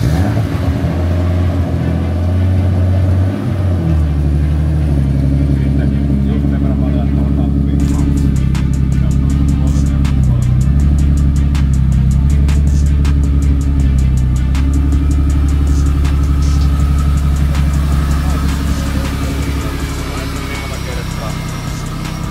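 BMW E36 325i cabriolet with a turbocharged M50 engine, held on locked front brakes, idles and then revs in loud sustained pulls with rising and falling pitch, up close, while people talk.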